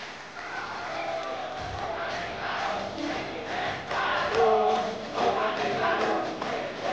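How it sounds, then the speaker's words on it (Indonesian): At a public debate for regent candidates in Lumajang, a crowd cheers and claps in a noisy, muffled swell, with shouts rising and falling over the applause. "Beri tepuk tangan yang meriah."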